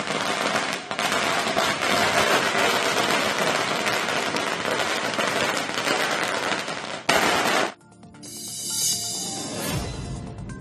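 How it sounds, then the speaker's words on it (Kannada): Dense, loud crackling bursts of firecrackers going off in rapid succession for several seconds at a political fans' celebration with dancing, then a sharper bang and scattered pops fading out. "ಸಿದ್ದರಾಮಯ್ಯ ಅಭಿಮಾನಿಗಳು ಬೃಹತ್ ಕಟೌಟ್ ಹಾಕಿ ಪಟಾಕಿ ಸಿಡಿಸಿ ಡ್ಯಾನ್ಸ್ ಮಾಡಿ ಸಂಭ್ರಮಿಸಿದ್ದಾರೆ."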